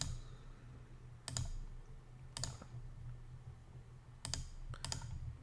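Faint room tone broken by a few crisp clicks from a computer mouse used in modeling software, singly and in quick pairs, close to the microphone and without speech.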